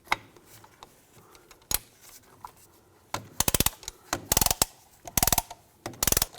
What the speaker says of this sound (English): Use a caliper compressing tool.